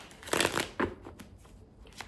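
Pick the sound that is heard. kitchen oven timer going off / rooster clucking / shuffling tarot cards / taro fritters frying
shuffling tarot cards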